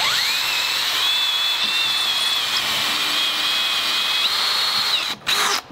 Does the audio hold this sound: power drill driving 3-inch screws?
yes